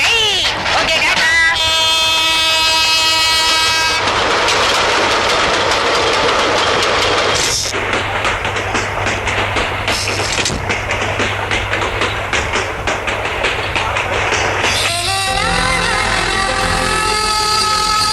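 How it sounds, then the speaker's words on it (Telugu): A passenger train pulls away from a station with rumbling and rhythmic clickety-clack of wagons, steady and loud, mixed with background film music. "ట్రైన్ వెళ్ళిపోతుంది"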